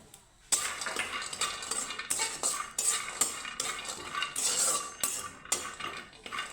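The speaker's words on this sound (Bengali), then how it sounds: "আমি এই বাদামগুলো ভেজে নেব শুকনো খোলায়" Raw peanuts dry-roasting in an empty pan, stirred with a metal spoon, give a steady scraping, rattling clatter in repeated strokes from close by, with short pauses between bursts.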